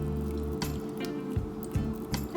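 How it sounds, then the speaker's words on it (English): Liquid poured into crepe batter in a bowl, giving close drips and splashy pours in irregular bursts over a steady background hum. "So I'm gonna just pour about half of this in."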